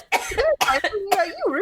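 A person coughs and chokes in short harsh bursts mixed with voiced, laugh-like sounds, close and fairly loud, with strained vocal tones running between the bursts.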